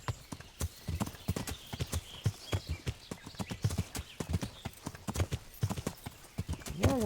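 Hooves clip-clop in a steady, close rhythm as a horse is ridden in the medieval game Kingdom Come: Deliverance, with a brief whinny near the end and no speech.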